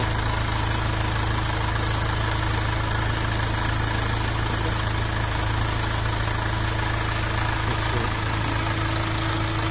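A LOVOL 35 hp mini tractor's four-cylinder diesel engine idles steadily at close range, with a loud, continuous low rumble and faint knocking. The note stays even throughout, with no talking.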